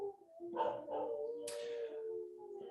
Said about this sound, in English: if you hear the dogs out there, my dog's howling